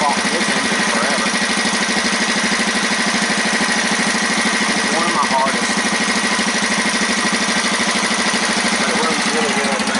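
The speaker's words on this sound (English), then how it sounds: "I fought this engine forever." An engine idling after an early-morning cold start, a steady, loud, even mechanical rumble with a fast regular pulse, while someone speaks briefly over it.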